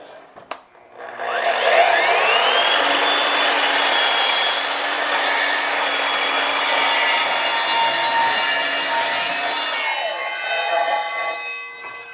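An Evolution multi-material sliding miter saw cuts through a 10 3/4 inch wide piece of UHMW plastic: the motor spins up, whines loudly and steadily through the cut for about eight seconds, then winds down.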